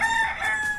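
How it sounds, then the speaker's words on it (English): A rooster in Key West crows loudly and close by, one sustained, strained call held for under a second with no talking over it. "Chicken."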